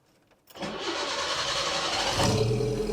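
The engine of a Datsun 120Y cranks and catches, then settles into a steady, slightly uneven running drone with a brief rise partway through, close and alone.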